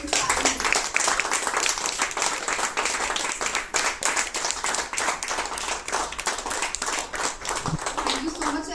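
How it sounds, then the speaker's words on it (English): A crowd at a book release event bursts into loud, sustained clapping and applause, crisp hand claps packed tightly together and holding strong for nearly nine seconds. "let us put our hands together for a resounding round of applause"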